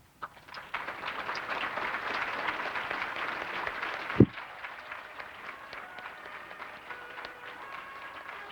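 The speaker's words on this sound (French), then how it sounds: "je vous demande de vous applaudir vous-même cette fois-ci" A studio audience applauds steadily as a guest enters at a French-language talk event, the clapping dense and close, then giving way abruptly to quieter room noise after a sharp thump.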